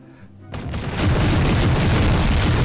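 A deep boom from a city bombing in Garry's Mod erupts and swells into a continuous roaring wall of explosions, loud and sustained after a brief quieter start.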